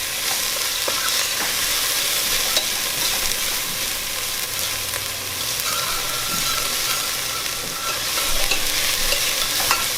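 Onions, garlic and green chili peppers frying in a pan for chicken tikka masala, a loud continuous sizzle close by with occasional scraping stirs of a utensil throughout.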